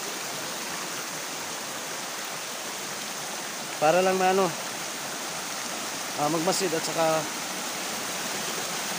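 Steady broadband rush of a flowing river running continuously, fairly loud and unbroken, while someone speaks briefly over it twice.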